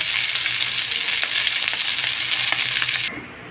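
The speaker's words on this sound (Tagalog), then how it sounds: "pinirito ko muna yung paksiw" Paksiw fish sizzles and crackles steadily in hot oil, a bright continuous frying hiss up close, with faint stirring clicks, cutting off abruptly near the end.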